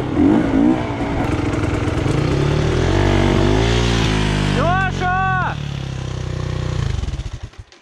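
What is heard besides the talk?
KTM 525 EXC dirt bike riding over hills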